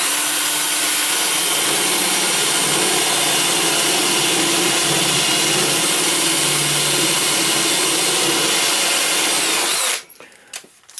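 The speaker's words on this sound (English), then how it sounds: "So you clamp it on, up to your edge, and then we'll just drill straight down into there." Power drill boring straight down into wood through a clamped drilling jig while building a media unit, a loud, steady whir for about ten seconds, then cutting off, followed by a few brief knocks.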